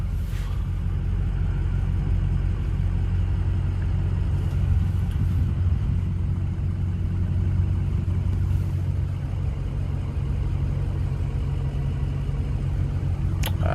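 Engine rumble from a 2007 Ford F-250 4WD Lariat with a 6.0L Powerstroke diesel, hot after driving, as it accelerates: a steady, loud low drone that holds throughout, close by and with no speech.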